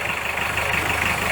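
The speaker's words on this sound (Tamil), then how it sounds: "பழைய காலத்து டீசல் இன்ஜின் அப்படி தாங்க இருக்கும்" An old diesel engine in a 1995 Hindustan Motors Contessa sedan idles steadily, a continuous close rumble with a faint knocking texture and no breaks.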